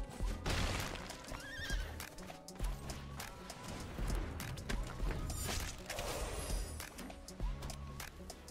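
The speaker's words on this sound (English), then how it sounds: "Ooh, a horse! I didn't know you could have a horse as a pet." A horse pet in the MTG Arena video game neighs, a loud whinny repeated over clip-clop hooves and game sounds, with a voice talking over it.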